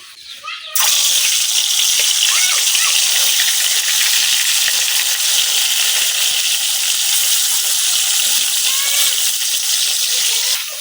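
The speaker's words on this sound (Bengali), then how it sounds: "গরম হয়ে গেছে এখন তেলের মধ্যে মাছটি তেল লইলাম" Pangas fish sizzling loudly in hot oil in a wok, a sudden burst of dense, steady frying hiss that holds strong for about ten seconds after a brief quiet start.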